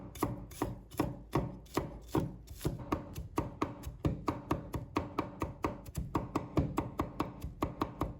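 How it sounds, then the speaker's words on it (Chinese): A knife chops crushed shallots and garlic on a cutting board in quick, sharp, close strokes, starting in uneven bursts and settling into a steady rhythmic tapping with no talking. "红葱头也拍碎，把葱香味拍出来，再切成葱蒜末。"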